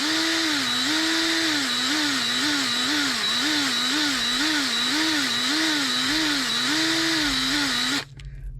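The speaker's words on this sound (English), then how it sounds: "you want to drill the head off of that rivet right there" A worn drill bit grinds steadily into the metal rivet head on a Hot Wheels die-cast car, its motor whine wavering rhythmically as pressure varies, loud and close, then stopping abruptly near the end.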